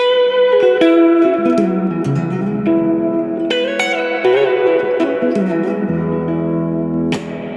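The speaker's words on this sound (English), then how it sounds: "The most reverb you can have is that the hall one on full." An electric guitar through a Yamaha THR10C amp plays notes and chords drenched in hall reverb at full, each strike ringing out into a long, washy tail.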